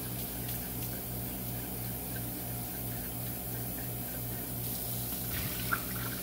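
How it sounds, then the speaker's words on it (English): Leftover morning coffee is poured out into a kitchen sink, a steady trickling stream splashing into the basin over a constant low hum in the background. "I'm just pouring out the coffee from this morning."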